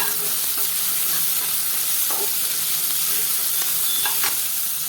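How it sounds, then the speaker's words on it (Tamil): Onion, curry leaves, carrot and garlic frying in a pan make a dense, constant hiss of sizzling oil, loud and close, with faint scrapes of stirring. "சேர்த்துட்டு நல்லா வதக்கி விட்டுருங்க."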